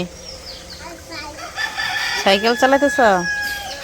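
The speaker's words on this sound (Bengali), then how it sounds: "এখন মোরগ মুরগি বাবারে চিল্লানো শুরু করছিল" A village rooster crows loudly and close, a drawn-out call of several rising and falling notes, after scattered hen clucks and quieter background sounds. A person speaks briefly near the start.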